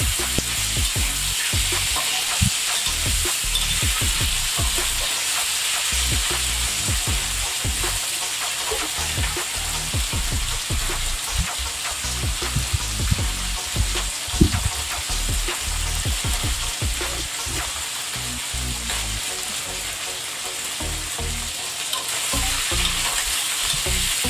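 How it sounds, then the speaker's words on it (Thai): Pork blood, pork and vegetables stir-fry in a hot pan, giving a continuous loud sizzle broken by frequent irregular scrapes and clatters of the stirring utensil, with no voices. "วันนี้ผัดเลือดหมูกับผัก หมูแล้วก็คนกันให้เข้าไปนะครับคนให้เข้าไป"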